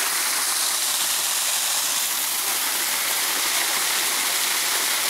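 A thundering wall of falling water from directly beneath a waterfall, loud, close and unbroken, with no voices.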